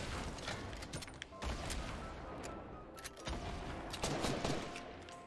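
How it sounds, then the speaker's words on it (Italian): Gunfire from the Fortnite video game crackles in dense, overlapping bursts through the whole stretch, a steady loud fusillade with sharper volleys near the end. "mi sta sparando da sta parte"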